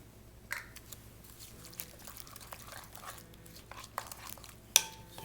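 A spoon stirring freshly squeezed lime juice and a touch of sugar into a Mexican prawn cocktail in a bowl, heard as faint, scattered clinks and soft scraping in a quiet room.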